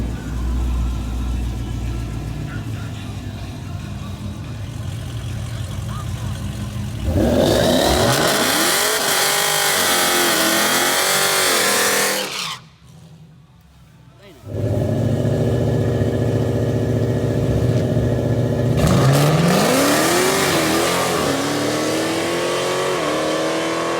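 A turbocharged LS3 Camaro accelerates hard down a dragstrip, its engine revving loud and close in rising sweeps; after a brief drop in volume, another strong, sustained pull roars back through the rest of the run.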